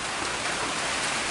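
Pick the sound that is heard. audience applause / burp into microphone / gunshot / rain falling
rain falling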